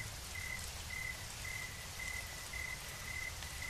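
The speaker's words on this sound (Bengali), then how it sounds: "আর বৃষ্টিটাও এসেছে জোরে" Steady rain falls continuously, a dense wash of patter with no voices, a faint high tone recurring in the background.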